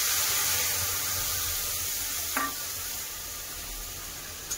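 Spice paste goes into hot oil with whole garam masala (cloves, cinnamon, cardamom), giving a steady, fairly close sizzle and hiss, with a brief sharper burst midway as the paste hits the pan.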